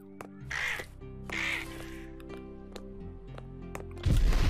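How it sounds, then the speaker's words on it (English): Crows caw twice in the video game Rain on Your Parade, harsh calls standing out over a sustained game music drone, followed by a sudden loud splashing burst at the end. "scare off all the crows"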